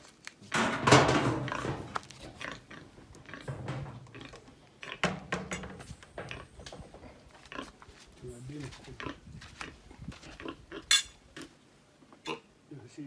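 A pig grunts and oinks near a Jamaican family home, close and intermittent over clattering cutlery and dishes, while people talk throughout.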